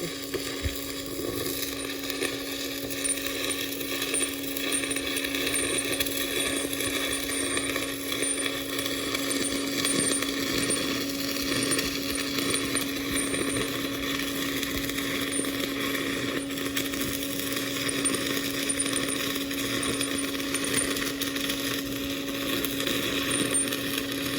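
SMAW stick welding with a 6010 rod over a tack on a pipe, producing a steady crackling sputter over a constant electrical hum, close and continuous with no talking.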